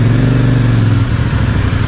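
A CF Moto 450NK motorcycle engine running while riding, a loud, close, steady drone with engine harmonics and no talk.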